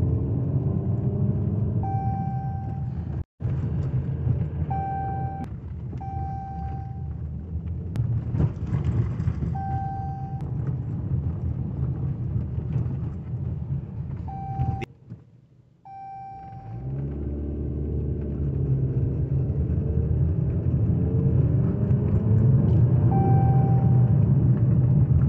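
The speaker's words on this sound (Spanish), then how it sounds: "la alarmita esa que se escucha es cuestión de frenos" Repeated short electronic warning beeps for the brakes sound inside a 2015 Jeep Cherokee with an electric parking brake, spaced irregularly over a steady low engine rumble that briefly drops out midway.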